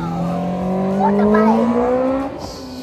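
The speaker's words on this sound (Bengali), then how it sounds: "ওই যে বাইকার্সদের বাইক এখন" A motorbike passes nearby at a national day fair in Norway with a loud, rising engine whine that fades as it moves off.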